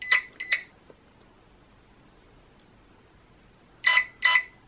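A Hobbywing Quicrun 10BL120 RC brushless ESC beeps while cycling through settings: two short bright beeps, a long quiet gap, then two more beeps, with no talk.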